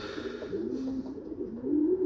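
A pigeon coos close by in low, rolling, wavering calls that run on without a break, fairly soft, with no talking.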